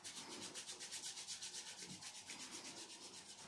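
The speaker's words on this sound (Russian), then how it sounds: "Слышите, трение — это шероховатое вот это вот звучание, которое передает тепло" Palms rubbing skin during a manual massage of the neck and collar area, with the hands reversed: quiet, close, rhythmic rasping strokes repeating several times a second without pause.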